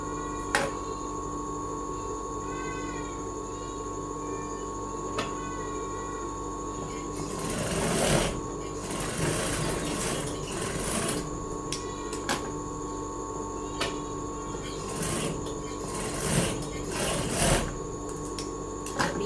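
A sewing machine stitches the bottom hem of a hand-sewn blouse in short mechanical bursts over a steady hum, the runs of stitching coming and going through the second half, with someone talking at times.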